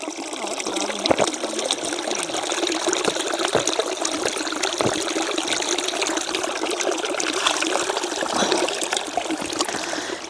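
Mountain spring water trickles and splashes steadily at close range, a continuous bright babble with no voices over it.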